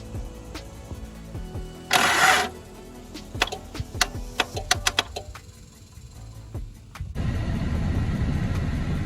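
A 1986 Toyota Corolla SR5 engine is cranked after a spark plug and coil refit. Dry clicks and a short burst of starter whir come first, then an engine catches and runs with a steady, rough rumble close by.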